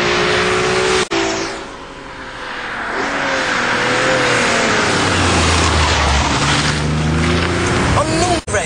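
An Alfa Romeo 156 GTA accelerates hard out of a corner, its engine note climbing steadily in pitch, close and loud throughout with a brief dip near the start and a gear change near the end.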